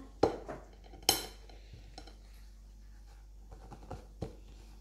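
A cake, an almond sponge base for a matcha panna cotta, turned out onto a plate, a few sharp clinks and knocks of crockery and utensils, spaced out and fairly quiet, without talk.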